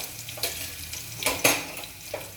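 Garlic sizzling and frying in a pan while being stirred, with a steady crackle broken by a few louder bursts of sizzle and stirring clatter, close and with no talking.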